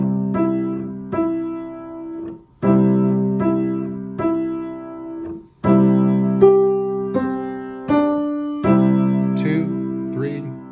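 Piano plays Jingle Bells, a simple, bright melody in short repeated phrases, each chord struck clearly and left to ring briefly before the next.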